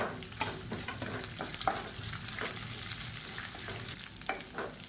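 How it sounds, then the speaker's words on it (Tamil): Sliced onion and garlic sautéing in a pan for a chutney, a steady close sizzle and crackle of frying broken by the scrape and clatter of stirring throughout, with no voices. "இப்போ பூண்டு லேசாக வதங்க ஆரம்பிச்சிருச்சு இந்த ஸ்டேஜில் மீடியம் சைஸாக ஒரு பெரிய வெங்காயம் நீளமாக நறுக்குனதை சேர்த்துக்கலாம்"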